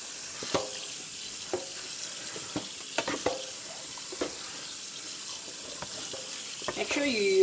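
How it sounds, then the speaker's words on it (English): Cold tap water runs over freshly cooked fettuccine in a strainer, a steady hissing wash punctuated by clicks and clinks of a utensil stirring the pasta. "Now I'm going to rinse it with a cold water."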